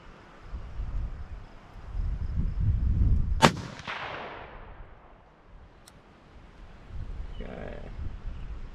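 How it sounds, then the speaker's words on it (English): A single sharp, loud rifle report from a Ruger American Gen 2 chambered in 6.5 Grendel, fired at an outdoor range. The shot cracks once and decays into a rolling echo, with wind noise and faint movement around it. "We're gonna shoot at the bottom target now."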